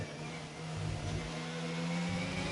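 Race car engine from a racing video game on the Austria circuit, a steady mid-pitched drone rising slightly as it accelerates through a corner, close and continuous with no talking.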